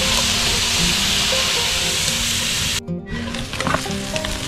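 Food softening in a Dutch oven sizzles loudly and steadily at close range, then briefly cuts out before resuming with scattered clinks and crackles.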